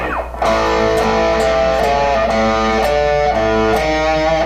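An electric guitar plays a riff with an alternate ending, picked notes and sustained chords ringing under a steady, moderately paced rhythm, played alone and close.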